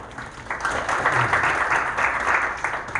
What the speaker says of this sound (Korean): 박수로 맞으시죠